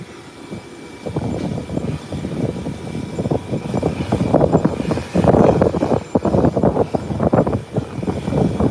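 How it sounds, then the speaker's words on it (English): A Boeing 777 arrives as a loud, sustained roar of aircraft engines that swells and rumbles continuously, with no voices over it. "Whilst we await the arrival of the Boeing 777, we nickname it the Speedbird."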